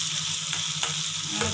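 Onions frying in a pan for sambal, a steady close sizzle with soft stirring scrapes at intervals.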